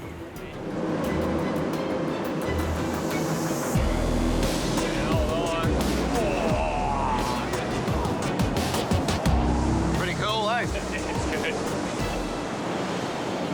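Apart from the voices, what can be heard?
water rushing through a narrow gorge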